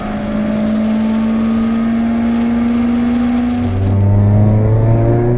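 A Citroën Saxo VTS petrol engine revs steadily and loudly up close, its pitch holding high before dropping and swelling again into a heavier, deeper roar near the end.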